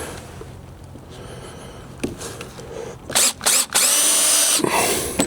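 A power drill drives fasteners into fender extensions on a Jeep Gladiator Rubicon: quiet handling noise at first, then several short, loud bursts of whirring and ratcheting close by.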